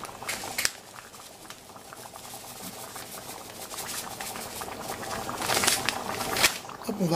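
Chili con carne with oregano added simmers in a pot, giving a steady bubbling, popping patter that swells louder toward the end, with a faint clink near the start.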